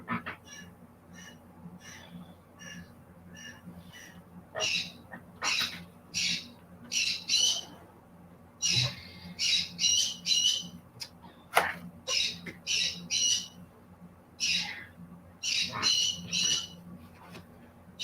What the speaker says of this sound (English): Gosh, Nikki, shut up. You crazy bird.